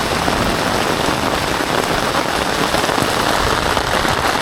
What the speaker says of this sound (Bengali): তো বৃষ্টিটা কেমন হচ্ছে দেখুন